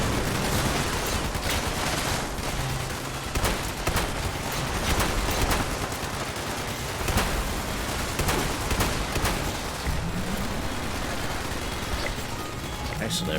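Rapid gunfire rings out as enemies are shot in the video game Fallout 76, dense bursts of shots packed back to back over a constant loud wash of game noise for the whole stretch.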